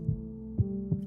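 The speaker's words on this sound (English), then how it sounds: "Here is the sound of your heartbeat." A low, soft heartbeat thumps three times in a slow rhythm over a faint steady hum, heard alone in a romantic binaural recording.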